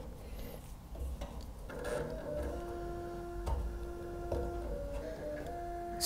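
The small motor of a Tado smart radiator valve mounted on a radiator calibrates with quiet, stop-start mechanical whirring and ticking in short bursts of varying pitch, close by and with no voices.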